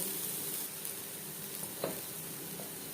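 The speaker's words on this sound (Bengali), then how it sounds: "পরিমাণ মতো হলুদের গুঁড়ো পেঁয়াজ হালকা করে ভেজে নেব" Onions with turmeric powder fry lightly in a pan for a fish curry, giving a faint, steady sizzle over about three seconds with no talking.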